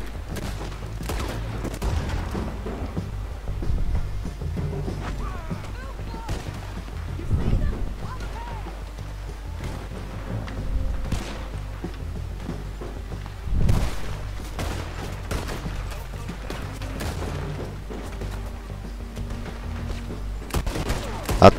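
Gunfire in Red Dead Redemption 2, scattered rifle and pistol shots cracking at irregular intervals, some near and some distant, over ambient game sound with a player talking throughout.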